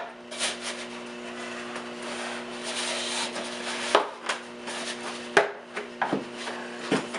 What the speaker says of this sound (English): So you take your first tube, which snaps in and you turn and lock it into place.